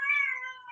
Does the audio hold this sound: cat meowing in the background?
yes